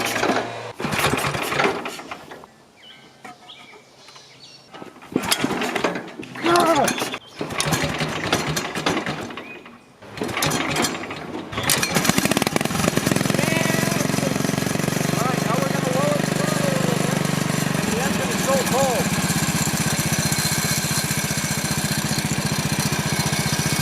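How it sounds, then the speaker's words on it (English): A Bolens garden tractor engine cranks in several bursts, then catches and settles into a steady, loud cold idle with the throttle lowered and the choke half open; someone talks over it. "I lowered the throttle because the engine is still cold, and I opened the choke halfway as well."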